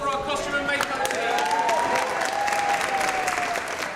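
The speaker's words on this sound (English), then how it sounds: "can we get a round of applause for our costume and makeup team?" An audience applauds the costume and makeup team at a Downton Abbey wedding event, with steady, dense clapping from a crowd across the whole stretch and a faint high whistle-like tone drifting through the middle.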